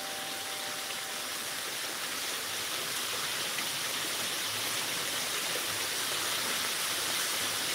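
Inside a building made to look like a cave, an artificial waterfall pours with a steady, broad rush of falling water that stays constant and fills the space, with no voices over it.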